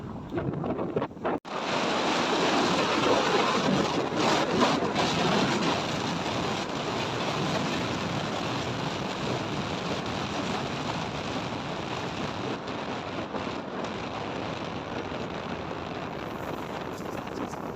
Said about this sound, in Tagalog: Walang katapos ang ulan.